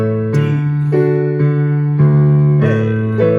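Piano chords from the chorus of a song, played with two hands as a series of struck chords roughly every half second to second, each ringing clear and loud before the next. No one talks.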